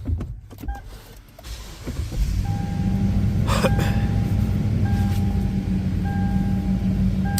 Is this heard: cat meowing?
no